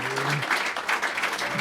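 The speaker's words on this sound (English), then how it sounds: "I can't pay all of you for clapping like that" An audience at Caffe Lena, a small folk coffeehouse, claps warmly in a steady, even patter of many hands, close and unbroken throughout, with a faint low hum briefly underneath at the start.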